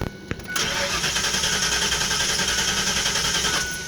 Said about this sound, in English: That's enough to start this engine.